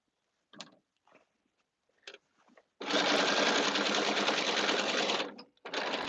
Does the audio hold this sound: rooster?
no